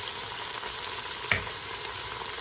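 Vegetables for a soup sauté in a hot pan with a soft, steady sizzle and one brief clatter partway through, fairly quiet and with no talking.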